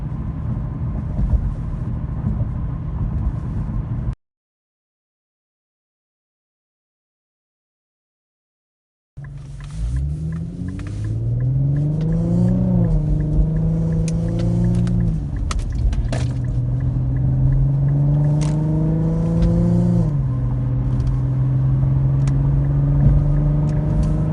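An Infiniti Q50's axle-back exhaust with muffler delete drones loud and raspy, rising as the engine revs and shifts through gears, after a few seconds of silence at the start.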